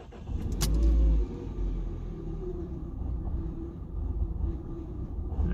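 A Peugeot 208 with a 1.4 VTi engine idles roughly, its camshaft dephaser disconnected and prone to stalling, giving a low, uneven rumble with a brief louder surge near the start, then a steady lumpy hum with no speech.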